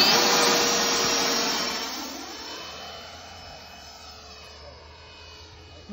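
The engine of a heavy, seven-and-a-half-pound RC Stinger model airplane screams loudly during a hand-launch takeoff, then fades steadily as the plane flies away. Voices can be heard in the background.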